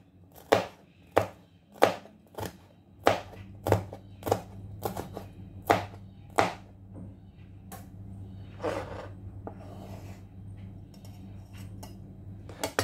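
A knife chops red chili and garlic on a cutting board, a series of sharp close thuds in an uneven rhythm that fade to quieter scraping, no talk.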